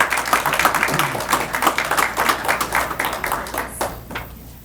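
Applause at a Probation Corrections Officer Corps Academy graduation ceremony, a crowd's dense clapping rising and falling in waves before thinning out and fading near the end.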